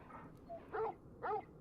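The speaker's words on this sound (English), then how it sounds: "my dog's barking at me" A dog barks and yips in a video game, a few short, quiet woofs and whimpers spaced about half a second apart, close and isolated with no talk over them.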